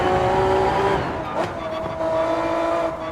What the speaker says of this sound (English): But that crisp V6 sound, as you go on the downshift, sounds fantastic.